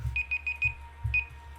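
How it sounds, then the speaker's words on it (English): A timer alarm beeps in quick repeated electronic bursts, a few rapid pulses, a pause, then another burst, clear and close with no talking. "That's my timer."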